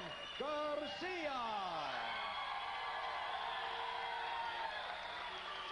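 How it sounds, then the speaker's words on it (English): A fight-night crowd roars and cheers for the boxers in a Las Vegas arena, a dense continuous wall of cheering and whoops with a few rising shouts near the start. "Well, the crowd is certainly up for this fight"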